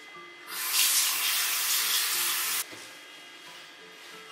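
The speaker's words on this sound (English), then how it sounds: "So I'm just gonna wash my face quickly." A bathroom tap runs into a sink while someone washes their face, a loud steady hiss of flowing water lasting about two seconds before cutting off abruptly, followed by faint splashes and rubbing.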